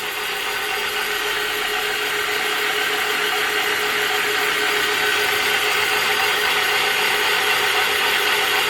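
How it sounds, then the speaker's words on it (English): A boring bar machines the cylinder sleeve bores of a Kawasaki 1500cc jetski engine block, producing a continuous, loud metallic cutting hiss and hum that stays steady throughout, with no voices. "We are now boring the holes to size."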